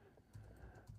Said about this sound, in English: I'm really good at typing, by the way.